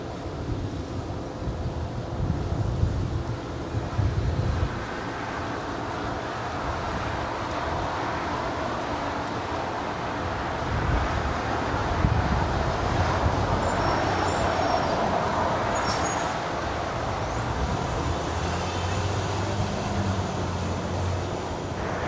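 A United airliner takes off from runway 25 right at Los Angeles International Airport, heard as a steady, broad jet roar that holds for over twenty seconds and swells slightly midway, with no voices.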